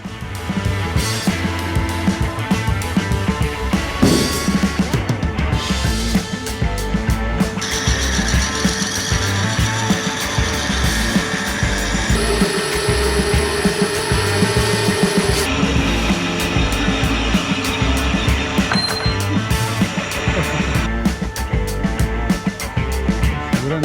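Metal parts for a BMW E30 differential mount are cut steadily in a workshop, giving a continuous, loud, harsh grinding and rasping. Its tone shifts between passes, and it runs on without talk.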